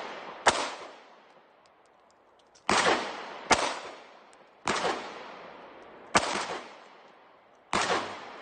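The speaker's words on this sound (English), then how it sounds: "Let's see what Matthew shoots." Six sharp handgun shots from target shooting, spaced irregularly over several seconds, each a loud crack with a short decaying echo, no talking between them.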